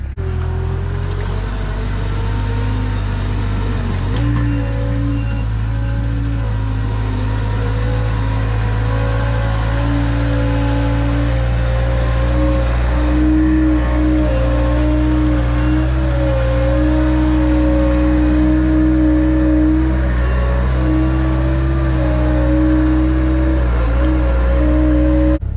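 A farm vehicle's engine revs hard and steadily while stuck in soft, waterlogged mud on a rainy dairy farm, a loud, sustained drone with shifting pitch as the throttle is held, brief dips and surges, and no talk.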